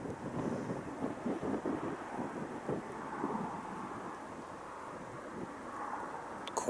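Strong wind gusting outdoors by a marsh, buffeting the microphone in a low, rumbling roar that swells and eases over several seconds, with a sharp knock right at the end.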